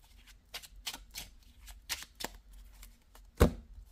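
A deck of playing cards being shuffled, several soft riffling bursts in quick succession ending in a sharper slap, close and quiet with no voices.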